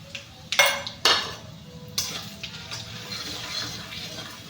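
A spoon stirs sambar masala with a pinch of hing and red byadgi chili powder in a pan, giving a few sharp metallic clinks and scrapes against the metal, close by and otherwise quiet.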